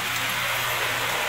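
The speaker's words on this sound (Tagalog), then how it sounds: "Grabe na yung ulan, lumakas pa." Heavy rain falls steadily outdoors as a dense, continuous hiss with no voices.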